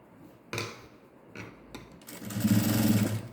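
A sewing machine stitches ladies' pants with elastic at the waist, starting after a few handling clicks and running steadily and close for about a second.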